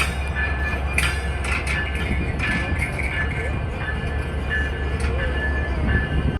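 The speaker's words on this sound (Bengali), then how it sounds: "ও যে ট্রেন আসতেছে বুঝছিস" A train rumbles close by with a heavy, continuous roar and rattling wagon noise that holds loud throughout, while people talk over it.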